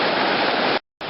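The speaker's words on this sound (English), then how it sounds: "Nice, beautiful creek going through here." Steady broadband rush of a creek flowing through a hiking trail valley, continuous and fairly loud, briefly cutting out near the end before resuming.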